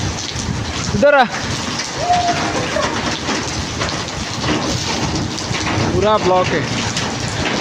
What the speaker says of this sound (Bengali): হ বৃষ্টি বাড়ছে